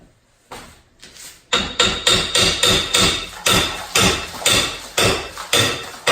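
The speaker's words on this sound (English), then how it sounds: "I'm going to hit it with the hammer a couple of times." A hammer strikes a car bumper during installation, a dozen sharp metallic blows landing close and loud in a steady, even rhythm after two lighter taps.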